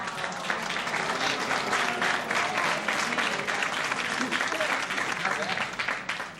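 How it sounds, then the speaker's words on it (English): Studio audience on a game show breaks into dense, steady applause, many hands clapping together at moderate volume and tapering slightly at the end, with no talk over it. "Your brother is the only one clapping"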